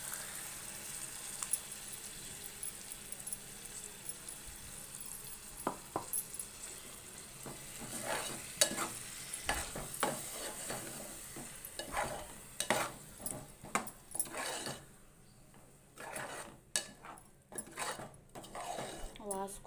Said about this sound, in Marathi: आता मी वाटण टाकते आहे,